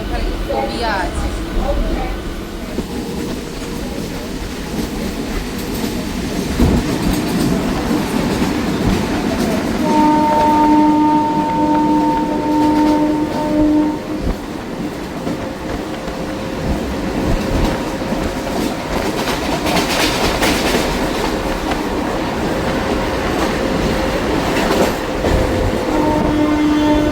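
Heard from inside a moving train carriage, the rails give a loud, continuous rumble and rattle, with rhythmic clatter and occasional metallic whines and squeals, while people talk nearby throughout.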